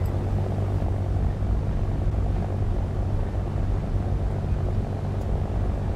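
A steady, loud droning rumble of fighter plane engines in War Thunder, unbroken and close for the whole stretch, with no talk.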